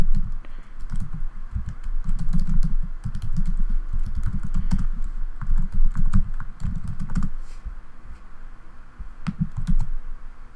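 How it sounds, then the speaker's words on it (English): Rapid typing on a computer keyboard, close and steady, with clustered key clicks and short pauses running through the whole stretch and no voices. "So everything you're going to do is from your response header. Okay, so here you can go and you can just type it in."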